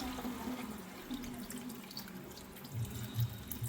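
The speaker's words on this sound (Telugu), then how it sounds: "నేనైతే కాచి చల్లార్చిన నీళ్లు పోస్తున్నాను" Boiled and cooled water is poured into a cauliflower and potato masala curry in a home kitchen, giving a soft, steady trickle and splash with a few small plops near the end, quiet and close with no talk.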